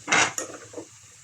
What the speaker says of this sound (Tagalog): Halu-haluin natin muna mabuti.